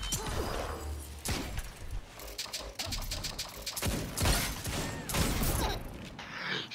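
Rapid bursts of gunfire in the video game Destiny crackle and pop in uneven clusters, loud and dense throughout, layered over other game effects with no voices.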